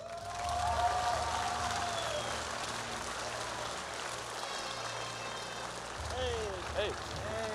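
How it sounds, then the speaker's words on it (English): Applause for a Moscow Five League of Legends team at a Polish esports tournament stage, dense clapping and crowd noise with a low rumble, steady throughout and louder near the end. "big round of applause for Moscow 5."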